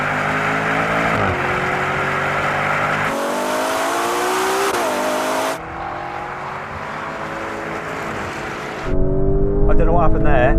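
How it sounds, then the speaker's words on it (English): A Ferrari Purosangue and a Lamborghini Urus SUV accelerate hard in a rolling race from 50 mph, engines roaring loud and close as their pitch climbs and resets through gear changes. "So when I said go, your car took off really well."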